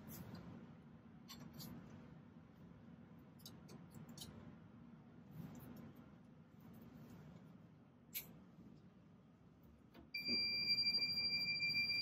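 Near the end a high, steady electronic beeping starts abruptly and keeps going over a quiet room hum, after a few faint clicks, in a lab during a distillation setup.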